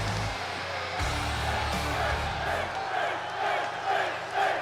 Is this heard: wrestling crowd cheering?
yes